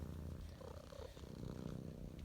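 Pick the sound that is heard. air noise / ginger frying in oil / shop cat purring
shop cat purring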